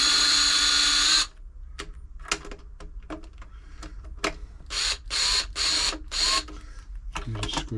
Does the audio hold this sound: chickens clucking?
no